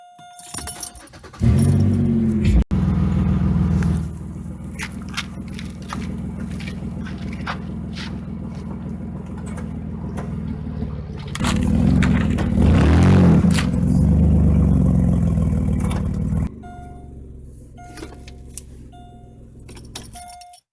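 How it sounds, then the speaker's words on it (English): A car drives slowly up onto a homemade ramp to raise its front end, the engine rumbling loudly and close and rising in a push midway, with keys jangling and a door chime beeping near the start and end. "I have this little custom thing that I drive up on to get the front end up."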